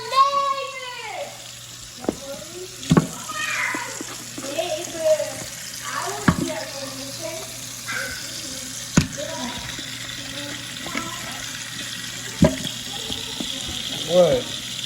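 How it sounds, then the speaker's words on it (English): Tap water runs steadily into a kitchen sink as raw chicken is rinsed under it, with irregular splashes and knocks against the basin, while people talk now and then. "First thing I'm gonna do is rinse this meat off."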